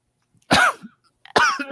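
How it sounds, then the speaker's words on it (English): Two separate bursts of coughing, a person in a hospital setting, each harsh cough fairly loud and close, spaced about a second apart with a short throaty trail after each. "It's a coughing fiesta aquí."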